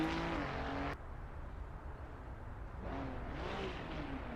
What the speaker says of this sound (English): you hear it's the Lambo